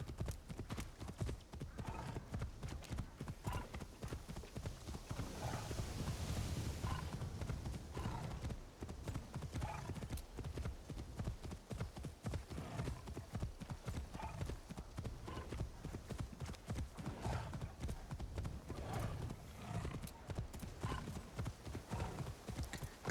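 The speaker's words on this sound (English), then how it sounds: "Get back here, perfectly normal horse." Horse hooves clip-clop in Assassin's Creed Shadows, a steady, close trotting rhythm that runs throughout and swells briefly midway as the horse moves along.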